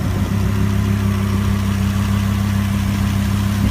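A 2015 Lamborghini Huracan's 5.2-liter naturally aspirated V10 idles with a steady, deep, even hum, close and continuous with no voices.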